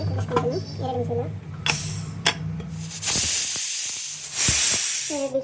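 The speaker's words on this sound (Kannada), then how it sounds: "ಇದರ ಕುಕ್ಕರ್ ಮುಚ್ಚಿ 2 ವಿಸಿಲ್ ಕೂಗಿಸ್ಕೊತೀನಿ." A pressure cooker on a home kitchen stove lets off steam in a loud sustained hissing whistle for several seconds, following clinks of utensils and a woman's brief speech.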